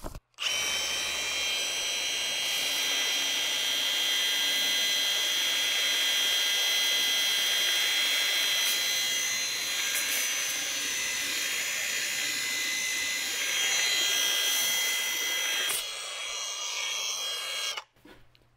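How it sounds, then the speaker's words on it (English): A belt sander sanding a round metal tube whines steadily and loudly for most of the clip, with a sustained high-pitched grinding tone, then cuts off abruptly near the end. "I'm just gonna do a little quick sanding on the outside"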